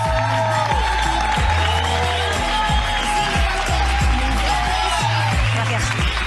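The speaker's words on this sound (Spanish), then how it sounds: "Un aplauso, por favor, para ella, como si no hubiera un mañana" A theatre audience at a Spanish cabaret show applauds and cheers loudly and continuously, a dense wash of clapping with a few whoops throughout.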